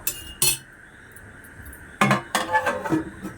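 A lid placed over a pot of katla fish curry: two sharp metallic clinks early, then a cluster of clattering metal and utensil knocks, close and fairly loud.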